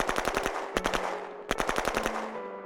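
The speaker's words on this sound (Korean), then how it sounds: "K-요원은 자신이 멈추겠다 말하고는 한동안 총성이 울리고" Gunfire sound effect in rapid automatic bursts, with three volleys of sharp, loud, closely spaced shots separated by brief pauses and ringing tails, and no voices.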